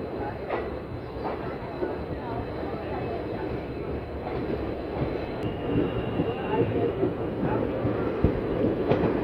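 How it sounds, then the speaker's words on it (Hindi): The Tanakpur Mathura Mela Special Express rolls along after leaving Izzatnagar station, a steady rumbling of wheels on track with occasional rhythmic clacks, heard from inside a carriage at a moderate level. "हमारी ट्रेन इज्जत नगर स्टेशन से डिपार्ट हो चुकी है"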